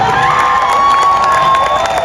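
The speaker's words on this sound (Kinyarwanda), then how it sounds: "dukomera amashyi" A comedy show audience claps and cheers loudly together, a dense, continuous wash of applause and shouting voices that fills the space with no pause.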